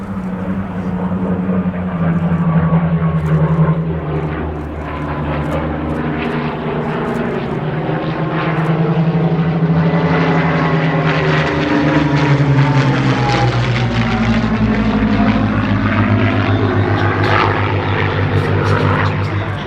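A propeller aircraft flies past at the Duxford Battle of Britain airshow in 2022. Its engine drone is loud and continuous, with the pitch sliding as it passes and the tone swelling and easing over about twenty seconds.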